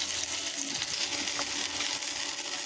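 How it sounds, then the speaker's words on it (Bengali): Dried red chilies and rui fish frying in hot oil, giving a steady, dense sizzle and crackle that stays even and fairly close throughout, with no talking. "মরিচটাকেও আমি এর মধ্যে ভেজে নেব।"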